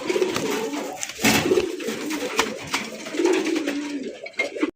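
Several pigeons coo steadily and close by while being picked up and handled, with fluttering and rustling movement around them in a village loft.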